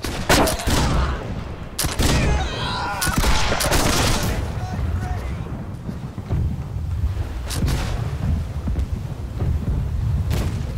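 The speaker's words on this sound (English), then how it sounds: "Or reload and fire right side cannons." Loud volley of ship cannon fire in the naval game Blackwake: several heavy booming blasts in quick succession near the start, then ongoing rumbling battle noise with a voice talking over it.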